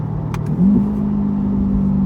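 A C8 Corvette Stingray fitted with a Z06 center exhaust holds around 2,500 RPM, a deep steady exhaust drone that swells slightly after a short dip, close and alone.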